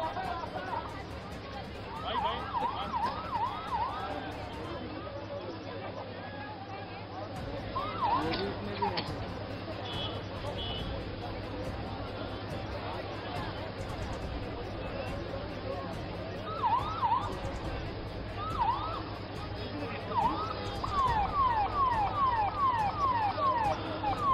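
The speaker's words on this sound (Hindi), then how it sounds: "एम्बुलेंसेज तेजी से आगे की ओर बढ़ी हुई है।" Ambulance sirens wail in short rising bursts as the vehicles depart behind an escort vehicle after the rescue of 41 trapped tunnel workers, heard over a constant murmur of a chanting crowd and nearby voices.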